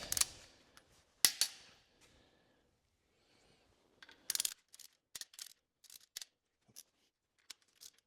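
Torquing main bearing bolts on a Cummins 4B engine during a Case 1840 rebuild: a series of sharp metallic clicks and ratchet snaps, several brief bursts spaced across the moment, close and fairly quiet with no talking.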